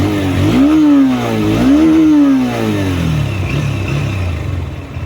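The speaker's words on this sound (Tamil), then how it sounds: "இந்த 180cc பைக்கோட எக்ஸாஸ்ட் சவுண்டை கேட்டிருப்பீங்க" A 180cc Honda motorcycle engine revs twice in quick rising-and-falling bursts, then settles into a loud, throaty idle close by.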